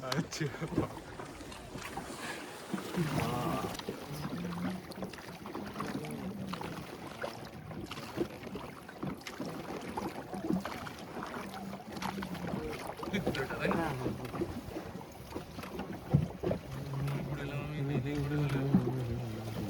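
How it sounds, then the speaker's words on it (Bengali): A boat moves along a river, its hull and water noise steady beneath wind buffeting the microphone, while people talk nearby throughout. "নৌকা হ্যাঁ, এরকম চলে হ্যাঁ।"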